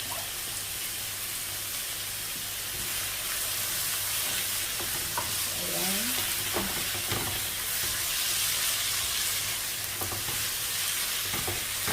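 Radish and carrot stir-fried in a pan for chicken gizzard, liver and heart bopis, a steady hissing sizzle with occasional utensil scrapes and clinks, close and even throughout.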